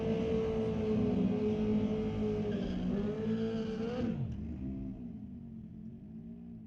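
A drag racing car at an NHRA Canadian Sportsnationals eliminations run roars down the strip, a loud sustained engine note that drops and fades after a few seconds as it pulls away.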